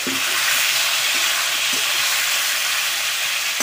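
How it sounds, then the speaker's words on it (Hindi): Fish frying in hot oil in a village kitchen gives a loud, steady, dense sizzle that holds without a break and stays close and continuous throughout. "अभी मछली को डाल रहे हैं उसके अंदर।"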